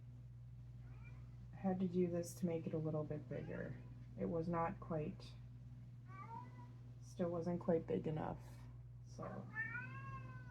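A house cat meows a few times in brief, rising calls between stretches of a person talking during a crochet session indoors.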